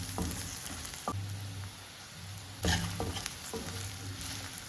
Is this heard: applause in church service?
no